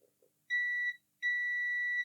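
Two steady, high-pitched continuity beeps from a multimeter probing a capacitor for a short inside a faulty LED inspection lamp, each tone lasting under half a second with a brief gap, preceded by faint clicks of the probes.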